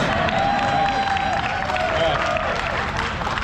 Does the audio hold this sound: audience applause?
yes